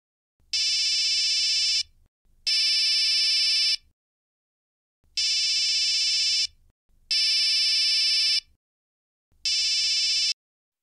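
A telephone ringtone rings in five loud, evenly spaced bursts of about one to two seconds each, separated by short silences, with no one talking.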